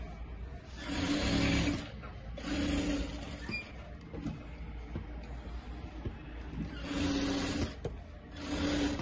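A sewing machine stitches lining onto fabric in three or four sustained runs, each lasting about a second or more, with brief pauses between bursts as the cloth is repositioned. The motor whirs close and moderately loud.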